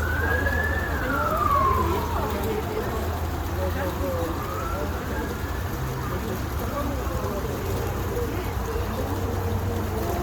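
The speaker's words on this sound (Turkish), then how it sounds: "Ambulans mı geçmiş?" An ambulance siren wails in a falling and rising sweep near the start, then fades and drifts off into the distance over steady background hum, with faint voices in the background.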